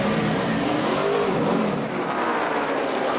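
A NASCAR race car, Tony Stewart's, accelerates away from a pit stop at Homestead-Miami Speedway, a loud sustained engine roar that holds steady and close throughout.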